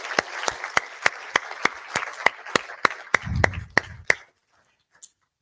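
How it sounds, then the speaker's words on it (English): A conference audience at React Norway 2024 claps for the sponsors. A steady, evenly spaced rhythm of hand claps rises into brief cheering, then stops abruptly into near silence. "So a clap for the sponsor."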